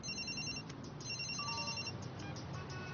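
A cellphone rings in a short, faint electronic ringtone made of repeated bright tonal chirps, with no voices over it.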